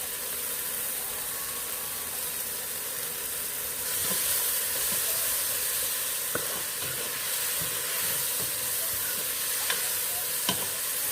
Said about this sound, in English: So I'm going to just go ahead and throw the green onion in there